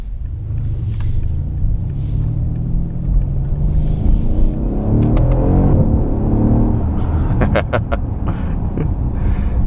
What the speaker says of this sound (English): like a popping sound when the gears are changing up, which is fantastic.